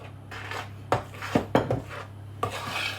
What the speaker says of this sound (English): I don't beat it, I just kind of stir it in